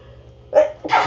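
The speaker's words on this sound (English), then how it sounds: "I think I have to sneeze." A sneeze during a morning live chat, heard close and loud as two quick bursts: a sharp intake followed by a bright, explosive release.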